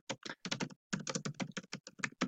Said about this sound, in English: So I'm just going to go and type this in.